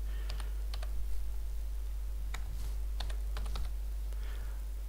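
Keys on a computer keyboard are tapped in short, light clusters of clicks over a steady background hum, with brief gaps between bursts and no one speaking.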